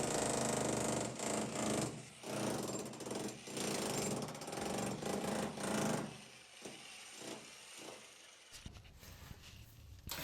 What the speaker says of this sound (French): ça fait toujours plaisir de sortir le gros marteau-piqueur